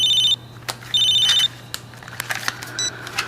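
A telephone rings in a TV drama scene, two bursts of an electronic trill separated by a short pause, followed by handling clicks and a brief beep before the ringing stops.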